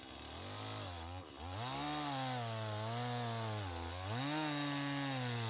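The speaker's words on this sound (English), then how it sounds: "We're sawing. We got the still out, and we're doing some sawing here." A sawing or chainsaw-like drone runs loud and continuous with a wavering pitch, dipping briefly near the start before holding steady, with no voices.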